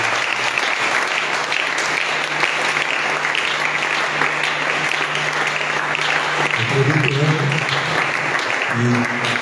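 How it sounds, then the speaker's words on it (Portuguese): An audience at a youth lecture claps in sustained, dense applause throughout, with a low steady tone running beneath and a voice briefly rising near the end. "Aplaudir mais uma vez pela glória de Deus."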